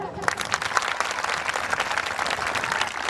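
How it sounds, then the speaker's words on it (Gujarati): A crowd at a school annual function breaks into loud, sustained applause, many hands clapping together for a few seconds. "એક વખત જોરદાર તાળી"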